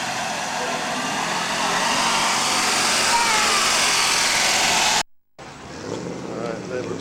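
Small classic Bambina car pulling away at an outdoor classic car rally, a buzzy high-pitched little engine whining steadily under crowd and wind noise, then cutting off abruptly as a quieter ambient stretch follows.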